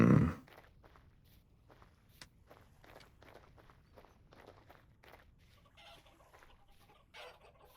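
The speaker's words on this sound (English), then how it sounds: "I heard a turkey there." Bird clucks and calls, something like a turkey, in the Vintage Story survival game. They sound faint and scattered over a steady run of footsteps, with a louder burst at the start and another near the end.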